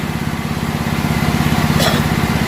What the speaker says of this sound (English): 230 amp DC welder generator